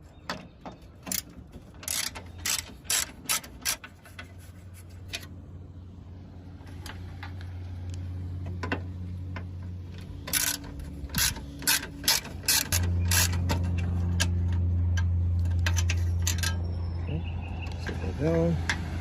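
A ratchet removing 10mm bolts from the radiator of a Mercedes-Benz E320 W210, with bursts of quick clicking between pauses, close by, as a person talks.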